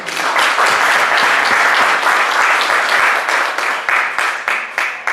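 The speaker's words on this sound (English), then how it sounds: "Let us clap for them once." A room full of people at a Rotary Club board installation applauds steadily, dense clapping that thins out toward the end into a few scattered claps.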